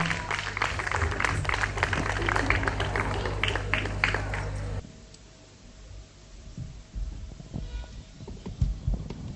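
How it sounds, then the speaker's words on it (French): Audience applause at a Christmas youth event welcoming two mothers, a dense burst of clapping over a low hum that stops abruptly midway, leaving scattered faint claps and room noise. "Merci de pouvoir leur applaudir"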